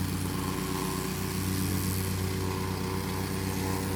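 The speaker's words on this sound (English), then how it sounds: "Whacker footage." Backyard string trimmer running steadily, with a continuous buzzing engine drone that holds an even, fairly loud level throughout and no talking.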